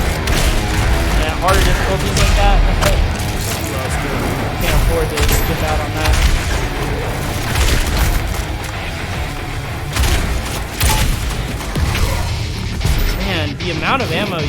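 Dense gunfire and booming blasts in Doom Eternal, loud and almost continuous, with a voice talking over the shooting throughout.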